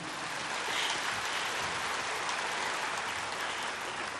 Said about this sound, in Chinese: 好，我们掌声鼓励一下。